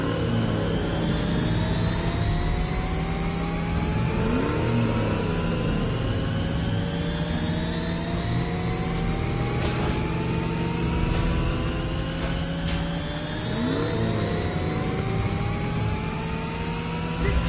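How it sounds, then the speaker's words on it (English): A video game hero transformed into a car drives across the map with a continuous engine drone whose pitch climbs steadily in repeated sweeps, with occasional sharp clicks and no talk. "Yet again, I transformed into a car."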